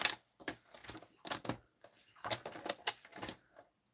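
Paper cut for a stamped card with a trimmer, heard as a series of short, sharp, close clicks and slicing snaps in irregular bursts, with brief quiet gaps between them and no talking.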